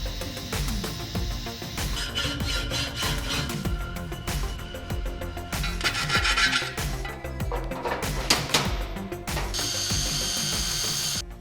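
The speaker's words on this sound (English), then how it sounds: "A little bit of drilling and gluing things together." Hand drilling and fitting of parts for a tiny wood stove install in a campervan, heard close up as a busy mix of grinding, ratcheting and rasping mechanical noise with irregular bursts and clicks, steady throughout without talking.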